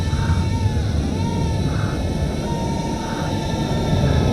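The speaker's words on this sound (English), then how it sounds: "There's an airfield 5 miles from here, but boy, you can hear those jets when they take off." A jet taking off from an airfield about five miles away produces a steady, broad roar with low rumble and a faint high whine, continuous and fairly loud throughout.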